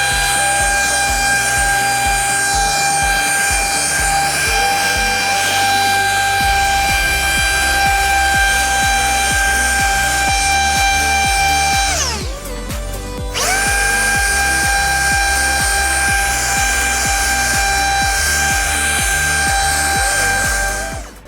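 A Ryobi 18V ONE+ HP compact brushless blower clears debris from a driveway edge with a loud, steady high-pitched motor whine. The whine dips briefly midway and then resumes at full speed.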